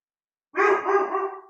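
A single short dog bark, close and fairly loud, following a moment of silence.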